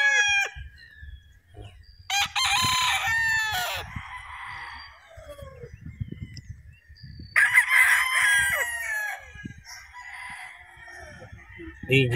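Roosters at a gamefowl farm give two long, loud crowing bouts and some fainter calls, over a steady low rumble of background noise.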